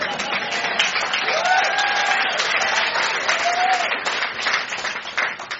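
A comedy show audience breaks into loud, dense applause with some cheering, holding steady throughout before easing slightly at the close.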